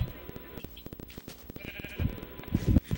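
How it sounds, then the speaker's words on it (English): Sheep in the Minecraft video game giving short bleats near the end, under scattered clicks and faint background noise. "Sheep in here."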